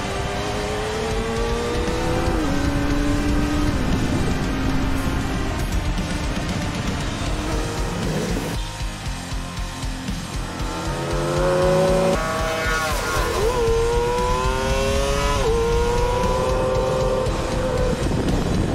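Kawasaki Ninja ZX-25R motorcycle on the Sentul circuit, its engine note climbing and dropping through gear changes as it builds speed, loud and continuous with a brief lull midway before revving hard again.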